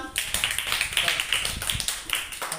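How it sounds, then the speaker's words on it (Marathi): Schoolchildren in a math class clap together in quick, rhythmic bursts, loud and close, with a teacher's voice over the claps. "टाळ्या वाजवा."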